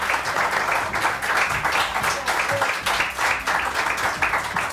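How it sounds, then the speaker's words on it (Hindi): Studio audience of a Pakistani morning talk show clapping for actress Anam Aqeel, a loud sustained burst of applause with pulsing swells and no clear talk. "अनम अकील के लिए बहुत सारी तालियां"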